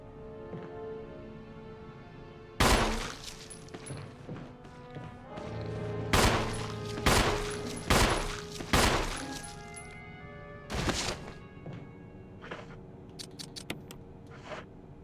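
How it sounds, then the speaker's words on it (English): Sharp pistol shots from the Resident Evil video game, several loud separate cracks spaced irregularly over a steady game-music and ambient bed. "Pistol."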